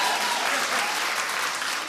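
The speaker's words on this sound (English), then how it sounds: "Clap if you did." A television studio audience bursts into brief, steady clapping, a short loud wash of applause with no talking over it.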